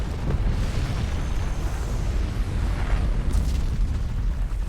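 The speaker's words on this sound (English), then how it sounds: "And then casually finished things off by exploding the entire forest." Explosion destroying a forest in Final Fantasy 16, a loud rolling blast with continuous deep rumble and crackling debris that sustains for several seconds.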